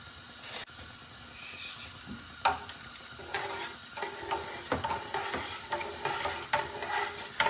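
A spoon stirs salt into a pot of water, giving irregular clinks and gritty scraping against the bottom at close range, with no voices.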